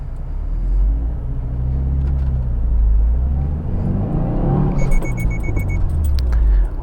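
A 2024 Subaru WRX engine runs steadily with low rumbling, its pitch rising as it accelerates, then a brief jingling near the end before the engine swells again.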